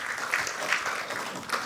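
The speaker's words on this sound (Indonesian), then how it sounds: "kita berikan tepuk tangan" Audience members at a televised Indonesian political discussion applaud, a brief steady wash of clapping at moderate level with no talk over it.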